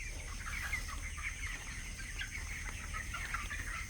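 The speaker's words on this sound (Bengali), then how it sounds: "ওই দিকে যাও, সামনের দিকে 5টা মুরগি একসাথে ধরো" Broiler chickens about 24 days old cluck and chatter continuously in a crowded poultry farm shed, a steady murmuring flock heard at close range with no talk.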